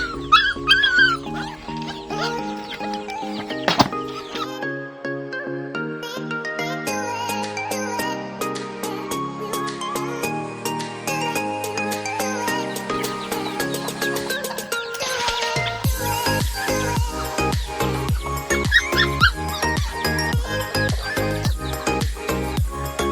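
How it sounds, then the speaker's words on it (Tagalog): Two puppies guarding a rural yard in Anda, Bohol whimper, whine and yip in rapid, overlapping bursts, high and close, with faint chiming between cries. "dalawang tuta. Bantayan dito guys."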